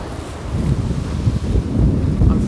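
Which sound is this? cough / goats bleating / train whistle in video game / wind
wind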